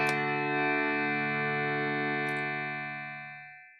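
A sustained guitar chord processed through a Line 6 HX Effects unit rings out with layered effect tone, holding steady and then gradually fading away over a few seconds.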